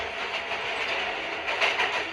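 Steady rumble and rattle of a train pulling away in a Roblox game, continuous and fairly loud with rolling clickety-clack texture throughout, no talk.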